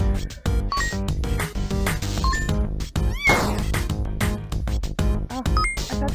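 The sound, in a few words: cats meowing in video game Wholesome Cats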